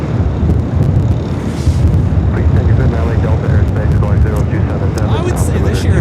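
JetBlue airliner at LAX lining up on runway 24 left in gusty winds, a loud, continuous jet engine roar mixed with wind buffeting on the microphone, with someone talking over it.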